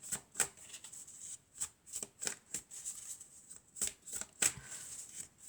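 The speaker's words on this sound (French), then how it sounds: "je vais prendre quelques cartes de mon oracle" A deck of oracle cards is shuffled by hand in soft, quick riffles and slides, coming in short bursts with brief pauses, close and quiet.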